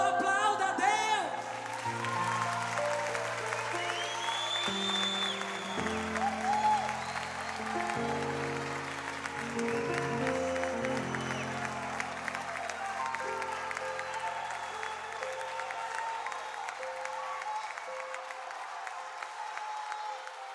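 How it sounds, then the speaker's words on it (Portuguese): Applause from a church programme audience rises under sustained organ-like music chords, with clapping spread steadily through the whole stretch and a voice speaking over the music. "Aplauda a Deus."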